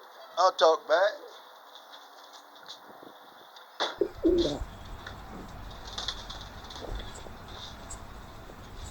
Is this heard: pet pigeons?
yes